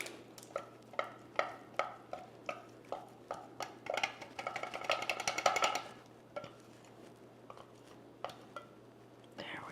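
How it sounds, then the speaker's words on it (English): Crab cake mixture being stirred together with egg in a bowl, a steady series of soft knocking taps from a utensil, quickening into a busier clatter midway, then slowing to sparse taps. "Now we're just mixing it in with the egg"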